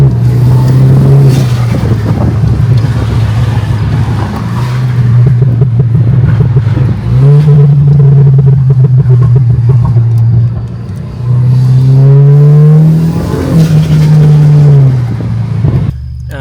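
A cheap car bought for $1750 from a US auction roars along loudly and close, its engine climbing and dropping through repeated acceleration surges with brief dips between gears over a steady rumbling drone.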